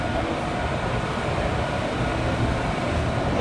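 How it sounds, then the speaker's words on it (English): A New Jersey Transit cleaner train rolls along a rail line in the New York area with a steady, broad rumble, close and continuous for a few seconds, with no voices. "There you are, cleaner train."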